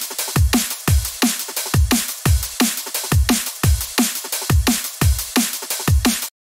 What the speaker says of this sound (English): For the drums, we went for the iconic drum and bass rhythm